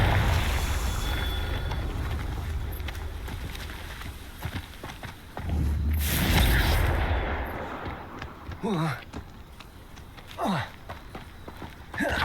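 Confringo, the fire curse spell in Hogwarts Legacy, casts with a loud bright whooshing burst midway, followed by quieter spell sounds and combat noise.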